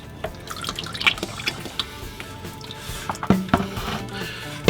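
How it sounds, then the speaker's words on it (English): Automatic transmission fluid dripping and splashing from a lowered oil pan into a catch container, with irregular close wet drips and small splatters over a faint background hiss. "I'll just carefully lower the pan down. Get the rest of the oil out."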